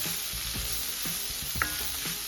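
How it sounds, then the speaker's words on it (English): Vegetables sautéing in butter and olive oil for a meatless cornbread dressing, a dense, even sizzle close up, with repeated soft stirring scrapes in a loose rhythm. "we're just going to saute these veggies off"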